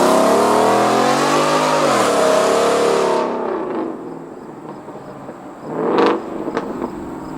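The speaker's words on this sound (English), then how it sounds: "That's the most aggressive exhaust you can buy from the Borla lineup." A Ford F150 pickup's loud Borla exhaust roars in a sustained rev, then drops to a throaty idle, followed by a couple of sharp blips of the throttle.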